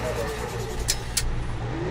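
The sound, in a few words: camper vehicle driving right outside the van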